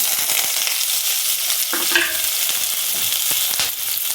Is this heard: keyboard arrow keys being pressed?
no